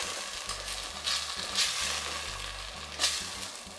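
Potato and tomato curry simmering in a pan after a stir, giving a steady close sizzle and bubbling with a few soft stirring scrapes, no voices.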